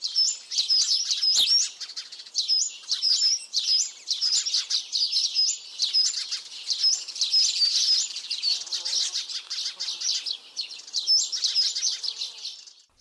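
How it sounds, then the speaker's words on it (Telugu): Sparrows chirp continuously in quick, bright repeated bursts, a busy flock of overlapping calls close by with no other sound. "వీటి కిలకిల రావాలు మనలో పాజిటివ్ వైబ్రేషన్స్ పెంచుతాయని నిపుణులు చెబుతారు."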